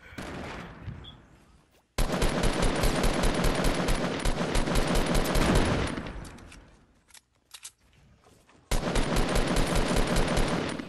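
Gunfire in the video game Fortnite during a squads match: loud, sustained automatic bursts for several seconds, a brief lull with a few scattered shots, then another heavy burst of fire.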